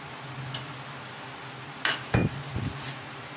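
Egg and cucumber salad ingredients being mixed in a bowl, with a few light clinks and taps of a utensil against the dish over quiet background hiss.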